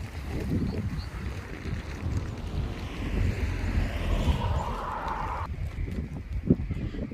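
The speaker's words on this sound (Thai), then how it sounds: "ลมแรงมาก" Strong wind in an apple orchard roars against the microphone in loud, gusty buffeting, steady throughout with rustling and no speech.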